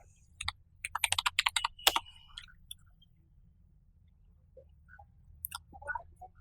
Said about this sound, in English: I will type the command show payloads